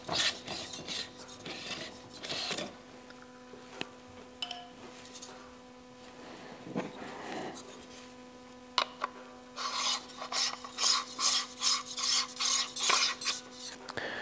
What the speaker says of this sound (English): And then we're gonna start unscrewing this guy.